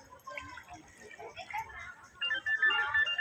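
A phone ringtone sounds with an incoming call beside a swimming area, a repeating tonal melody rising over splashing water and background voices in the latter half.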